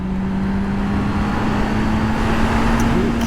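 Honda CB650R motorcycle engine downshifting to third gear, a loud steady engine drone with a constant low hum heard from on board, rising slightly near the end.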